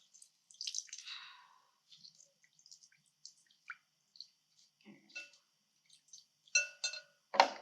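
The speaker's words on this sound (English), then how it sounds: "And we are just going to squeeze out the liquid" Liquid drains from squeezed apple sauerkraut slaw into a strainer as a quiet, scattered series of separate drips and small splashes, sparse at first and then a few louder drops near the end.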